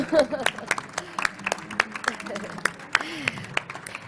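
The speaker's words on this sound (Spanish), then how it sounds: "Vamos a darles un aplauso." Scattered, uneven handclaps from an audience at a Madrid city forum on social economy, sharp and fairly close, with voices talking underneath.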